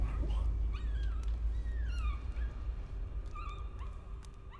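A dog in the horror video game Layers of Fear whimpers and gives several high, sliding yips over a steady low rumble of background noise, with no talking.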